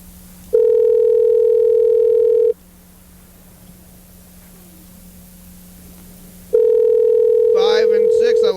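A telephone line produces two steady, loud tone bursts, each lasting about two seconds and separated by a quieter gap with faint background noise. A short run of dialing beeps follows the second tone, and no voices are heard.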